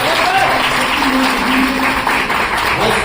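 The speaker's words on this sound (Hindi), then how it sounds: "हमारे साथ में भाई विनोद वर्मा जी खड़े हैं, तालियां भाई के लिए" A crowd applauding steadily, dense continuous clapping that stays loud throughout with no pauses.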